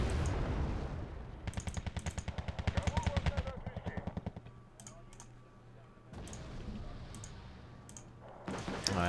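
Automatic weapons fire from units in the real-time strategy game Wargame Red Dragon: loud, rapid rattling bursts in repeated volleys, pausing and resuming, with sharp clicks and a low rumble beneath.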